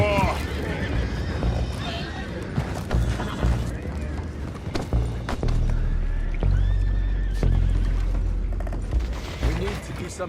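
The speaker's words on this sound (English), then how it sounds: "go find out about those horses down below" Horses neighing and whinnying in the Red Dead Redemption 2 open world, repeated calls over hoof clatter, dense game ambience and booming effects, loud and close.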